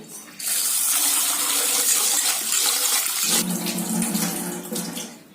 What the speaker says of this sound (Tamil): அடுத்தது உளுந்து கழுவிக்கலாங்க.